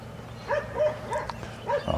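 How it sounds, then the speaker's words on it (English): A few short barks from a dog in the middle distance in the early morning at Eisenhower State Park, spaced irregularly over a quiet outdoor background. "Gotta love the early morning dog barking."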